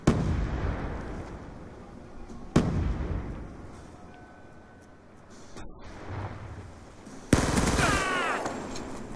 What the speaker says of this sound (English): Bombs down over here.